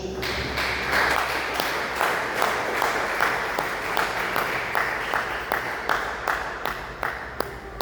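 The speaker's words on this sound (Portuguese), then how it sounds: "dê uma salva de palmas para Jesus" A church congregation applauds for Jesus during a service, a steady wash of clapping lasting several seconds with distinct sharper claps standing out against a low background hum.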